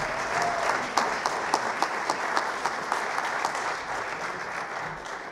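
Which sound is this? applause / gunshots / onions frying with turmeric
applause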